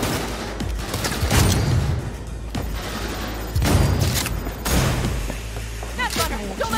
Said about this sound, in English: See how you can just shoot through everything with this sniper?